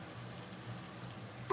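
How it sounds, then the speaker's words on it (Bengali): Onions fry in a pan for chicken kosha (Bengali spiced chicken), making a continuous soft sizzle near at hand, with a brief sharper clink right at the end. "এই যে এদিকে ভাজা হচ্ছে, এটা কষা মাংস, পেঁয়াজ ভাজা।"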